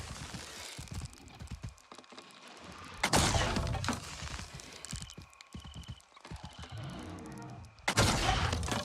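Gunfire in the video game Avatar Frontiers of Pandora, uneven clusters of sharp shots and crashing impacts with two loud bursts, set against rattling game sounds and little talk.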